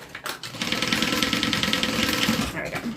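A sewing machine runs steadily while stitching across the top of a seam on a bag, giving a continuous rapid mechanical whir with a regular fast pulse that holds close and loud for almost the whole stretch.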